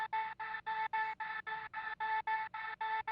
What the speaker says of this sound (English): I added a vocal chop, but I added so many effects to it that it just made it sound like this